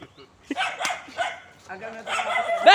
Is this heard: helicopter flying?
no